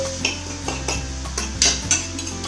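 Meat tossed into a pan of cauliflower rice stir fry, with clattering pan and utensil knocks and scrapes, several sharp metallic hits over a low hiss.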